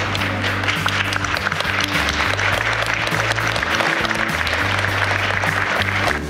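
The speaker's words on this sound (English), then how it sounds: "give a round of applause to those who helped you on this journey" Sustained, dense applause from the audience at the St. John Fisher College Class of 2022 commencement, loud and continuous throughout with low music playing underneath.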